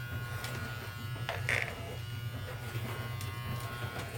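Electric hair trimmer cutting a hairline, giving a low steady buzzing hum throughout with faint scraping touches as the blades meet hair, fairly quiet and close with no speech.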